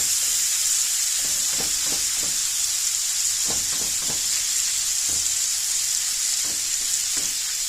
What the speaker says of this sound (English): And just cook that ground beef up,